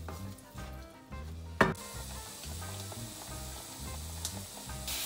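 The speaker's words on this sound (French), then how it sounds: "Un bon décilitre de vin rouge et on laisse réduire." Red wine with shallots in a pan, reducing for an oeuf en meurette sauce, gives a steady close sizzle and bubbling, with a sharp utensil clatter partway through and a brief bright clink near the end.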